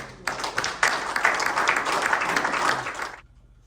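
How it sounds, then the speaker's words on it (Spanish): Congregation applauding during a church service, a burst of dense clapping that starts abruptly, holds steady for about three seconds, then cuts off. "Un aplauso a la gloria de Dios."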